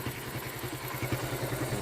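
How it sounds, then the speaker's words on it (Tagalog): Raider 150 motorcycle fitted with a 28mm Keihin carburetor idling close by, a quiet, even low chug with steady pulsing rhythm and no voices. "So, yan na yung tunog ng motor."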